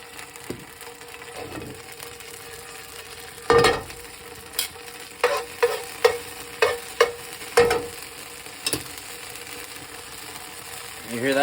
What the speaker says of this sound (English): You hear that sound? That's sizzling.